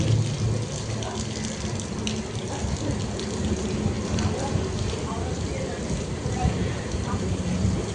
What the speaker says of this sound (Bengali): কাল রাত থেকে বৃষ্টি পড়েই যাচ্ছে।